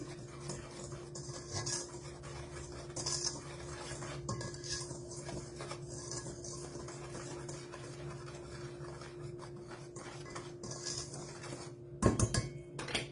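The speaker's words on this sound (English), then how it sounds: "Go ahead and whisk all of that up." A whisk scrapes and clinks against a bowl of vegan lemon blueberry muffin batter in a steady, soft, continuous rhythm, with a sharper clatter near the end. No one speaks.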